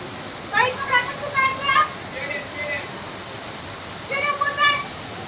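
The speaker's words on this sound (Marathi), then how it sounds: "फक्त आता तर एकदम जोरदार पाऊस चालू आहे" Heavy rain pours steadily over farmland, a dense unbroken hiss that continues throughout while someone talks over it in short bursts.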